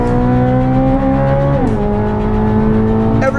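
A 2023 Chevrolet Corvette Z06 engine screams at high revs on a racetrack, its steady wail dropping sharply in pitch during a downshift, then holding a loud, close, continuous howl.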